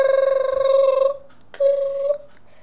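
A telephone rings in the video game Five Nights at Oldy's 2, two loud electronic tonal rings with a short pause between them, near and unaccompanied.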